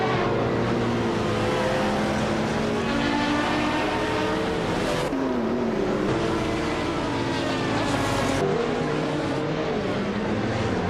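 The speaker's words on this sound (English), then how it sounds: "Hingle McCringleberry is driving a 1998 T VR Speed 12 GTS." A 1998 TVR Speed 12 GTS racing in a driving game: a loud, continuous high-revving engine with gear shifts and pitch swoops, other cars roaring close by.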